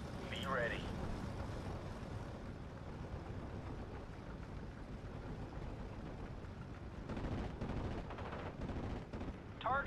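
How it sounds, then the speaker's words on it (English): A Mustang aircraft strafing ground units in the video game Steel Division: Normandy 44, heard as continuous rattling gunfire and engine roar with bursts of heavier firing, while someone talks over it. "I'm still going to have the Mustang strafe these units on the ground."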